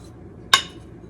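A butter knife cuts through fresh, still-warm shortbread straight from the oven, making a single short, bright clink against the pan, close and alone after quiet.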